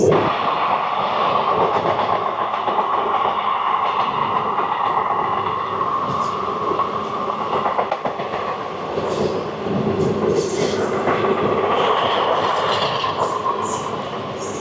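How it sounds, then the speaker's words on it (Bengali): The Nagercoil–Shalimar Gurudev Superfast Express, train number 12659, arrives at a station with a loud, sustained rolling rumble and a faint clatter of wheels, plus a high squeal near the end, with no talking. "চলে আসছে ট্রেন নাম্বার 12659 নাগেরকয়েল জংশন থেকে শালিমার গুরুদেব সুপারফাস্ট এক্সপ্রেস"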